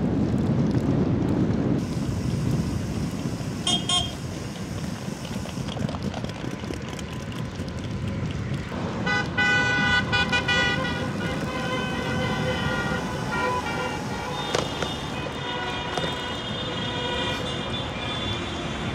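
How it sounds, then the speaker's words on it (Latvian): Car horns honk repeatedly in traffic in Kaunas, Lithuania, heard from inside a moving car, with several sustained blasts over steady road rumble and engine noise. "Nezinu, ko viņi tur pīpina visi."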